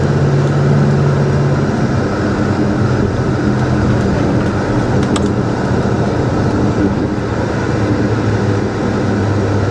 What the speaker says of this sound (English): You can hear the muffler, hear the exhaust, but it's not like it's droning.